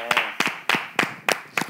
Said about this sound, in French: S'il vous plaît, arrêtez d'applaudir.